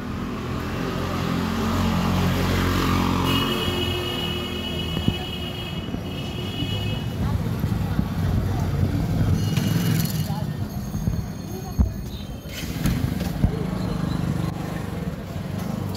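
A motorcycle engine idling and revving at a quiet open-air morning market, a steady low rumble close by that swells and shifts over time, with other passing vehicle noise and brief clatter around it.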